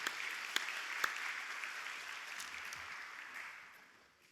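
A room of children and teachers at a church gathering claps together, a broad steady wash of applause with a couple of sharper claps early on, fading away toward the end.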